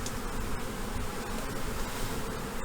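A swarm of honey bees hums in a dense, steady drone that stays loud and close for the whole moment, with no voices over it.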